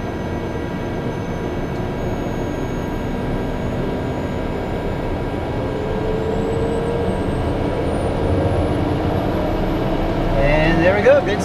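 Aircraft turbine engine spooling up during a start after a near-hung start, a steady broad roar with a slowly rising whine that builds louder toward the end, heard from inside the cockpit.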